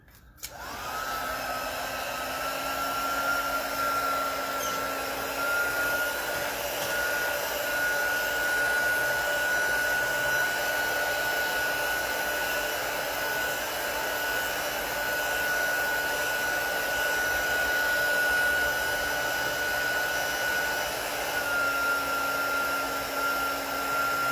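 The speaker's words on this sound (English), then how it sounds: "I'm going to heat this to emboss that powder." A heat embossing tool blows steadily on embossing powder over a stamped craft card, a loud continuous whir like a hair dryer, close and unbroken throughout with no talking.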